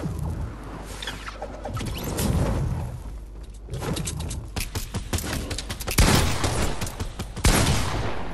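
SMG gunfire in Fortnite, dense bursts of rapid game shots with mechanical clatter, continuous and fairly loud over background game noise with no talking.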